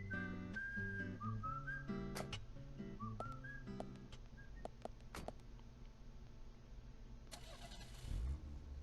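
A car engine starts in the video game Deadly Premonition, a brief turnover and catch near the end, after a stretch of whistling tones and clicks, with no talk.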